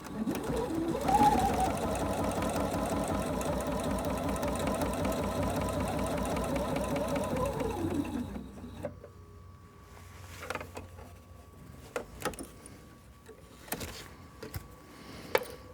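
A sewing machine running a straight stitch, a fast steady mechanical whir with a rapid needle rhythm for about eight seconds, then stopping into quieter scattered clicks and handling noises.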